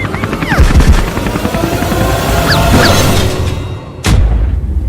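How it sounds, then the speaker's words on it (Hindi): A loud helicopter rotor roars and churns as the helicopter goes down, with falling whistles overhead, then a sudden sharp crash-like burst near the end followed by continued rumble. "अबे जल्दी कूदो, ये हेलीकॉप्टर गिरने वाला है।"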